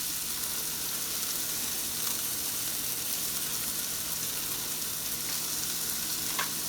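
A large steak sizzles and fries steadily in a hot pan for tacos, a continuous close crackle with no talk.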